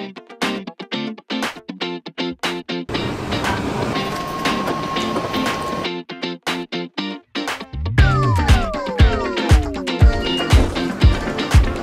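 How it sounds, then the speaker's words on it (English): Train ride near Cologne, Germany, with rhythmic clickety-clack over rail joints, a loud steady rumble in the middle, then squealing wheels and rolling clatter near the end. "we're just gonna take the train all the way there"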